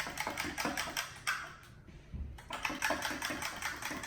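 Coconut milk whisked hard with a fork, a fast, steady metallic clatter of tines against the bowl, pausing briefly near the middle and then resuming, close and fairly loud with no talking.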